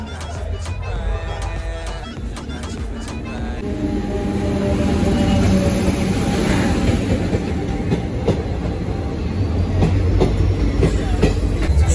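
A train pulls into a station and runs steadily on the rails, a continuous loud rumble with rolling clatter that builds and holds, with faint voices nearby.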